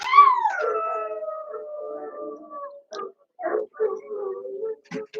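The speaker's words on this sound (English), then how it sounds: "Please don't howl in here." A dog howls indoors, one long wavering howl near and loud, then trails into shorter broken yips and whines.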